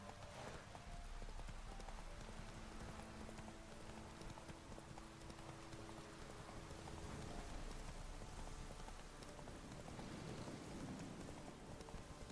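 Galloping horse hooves pound steadily in rain in the video game The Witcher 3, a continuous rapid clip-clop under a dense wash of falling rain, fairly close and unbroken, with no talk.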